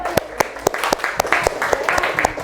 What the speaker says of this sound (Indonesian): Beri tepuk tangan untuk Dedek